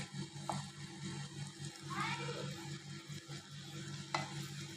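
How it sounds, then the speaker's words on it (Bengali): Koi fish frying in oil give a soft, low sizzle as they are flipped, with a couple of light utensil clinks and a faint hum underneath, quiet and close. "আমি এখন মাছগুলো উল্টিয়ে দিচ্ছি"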